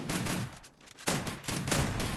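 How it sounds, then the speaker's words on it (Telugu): Automatic AK-47 fire in the Free Fire video game, a loud dense burst that breaks off briefly and then resumes as continuous rattling shots. "ఇక్కడ ఏదో AK-47 సౌండ్ వినబడుతుంది బ్రో."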